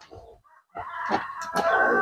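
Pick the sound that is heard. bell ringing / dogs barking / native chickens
native chickens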